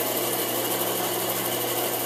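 A band saw fitted with a 3/4 inch resaw blade and fresh urethane tires runs steadily, a loud, even machine whir that holds without a break and with no talk.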